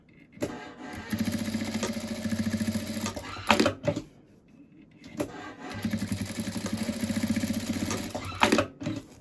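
A sewing machine stitching a felt butterfly wing for a doll runs in two close bursts of a few seconds each, a fast steady motor rattle with a short pause between them and no talking.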